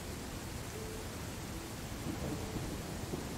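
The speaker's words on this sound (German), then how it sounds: "Es darf der Regen prasseln, wie er möchte." Steady rain and a low rumbling thunderstorm from the video game Land of the Vikings form a constant, fairly quiet wash of noise with no speech.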